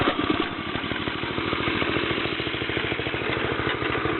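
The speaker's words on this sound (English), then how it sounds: "The idle's a little high" Go-kart engine idling with a slightly high idle, a steady, fast, rough putter running close and continuous with no speech over it.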